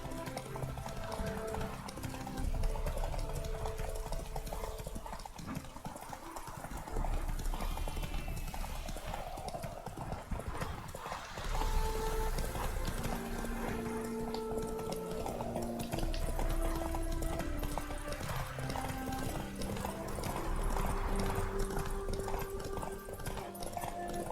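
Rapid rhythmic hoofbeats of a galloping horse continue steadily throughout, mixed with a dense soundtrack and background music from The Witcher 3: Wild Hunt.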